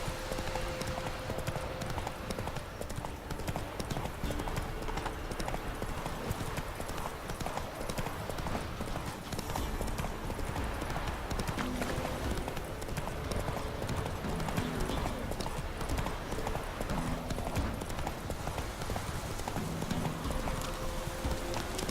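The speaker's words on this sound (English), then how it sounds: "Oh, Roach, you crazy horse." Hooves of Roach, a horse in a video game, clip-clop in a steady walking rhythm that carries on continuously for over twenty seconds over a constant ambient background bed.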